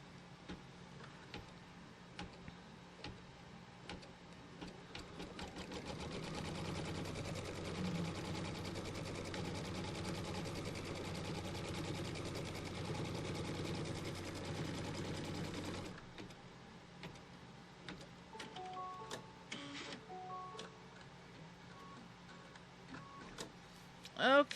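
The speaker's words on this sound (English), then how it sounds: "now it's going to stitch a placement line and some little grid markers for the next piece or the next strip of fabric" A home embroidery machine stitches a placement line and small grid markers onto quilt fabric, a steady rapid mechanical whirring and ticking that runs for about ten seconds at moderate loudness before stopping, with quieter handling sounds after.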